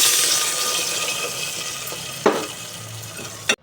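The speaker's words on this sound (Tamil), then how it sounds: "இப்போ தண்ணி வந்து ஊற்றிக்கிறேன்" Water pours steadily into a hot pot of spiced masala, making a loud rushing sizzle, with a couple of sharp clunks near the end.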